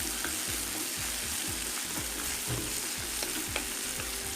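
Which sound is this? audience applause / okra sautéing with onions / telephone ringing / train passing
okra sautéing with onions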